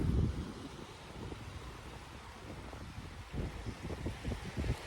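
Wind blows across a beach at low tide near sunset, a low, continuous rushing buffet against the microphone with soft swells, fairly faint and without voices.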